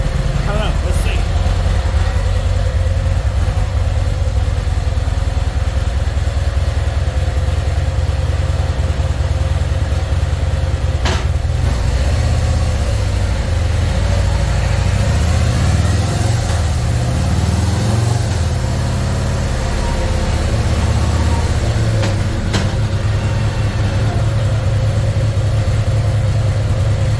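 A Harley CVO Road Glide RR engine runs on a dyno with no muffler, a loud, deep continuous rumble that surges and settles through several rev changes, close and steady throughout.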